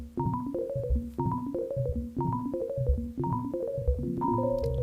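A repeating electronic sequencer pattern of short synth notes loops in steady rhythmic cycles, its melody shifting slightly each time, with no voices.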